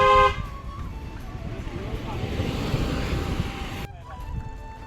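A car horn toots near a cyclist riding through Borivali National Park as a vehicle approaches and passes, with road rumble and voices talking.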